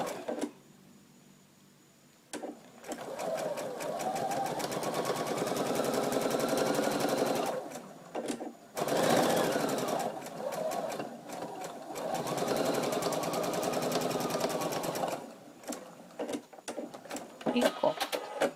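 A domestic sewing machine stitches a cotton dish towel in long, steady whirring runs, pausing briefly between passes and starting again near the end, close and fairly loud.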